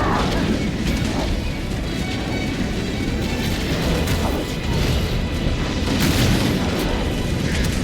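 A ship explodes in the Halo Campaign Evolved video game: a loud, sustained roaring blast with crashing debris fills the full stretch, dense and close, with no talk over it.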